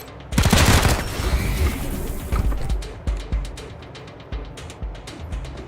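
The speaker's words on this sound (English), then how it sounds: "We can shoot twice from where we are." Gunfire in the video game Wasteland 3, opening with a loud burst of shots and a boom, then several spaced sharper reports fading out over the following seconds.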